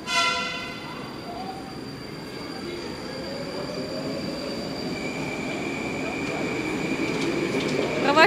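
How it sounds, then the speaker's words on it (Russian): A Moscow metro train pulls away from a platform on the Big Circle Line, with a steady, loud rumble of wheels and tonal motor whine and faint squeal building as it accelerates, close by. "Провожаем 775-й состав."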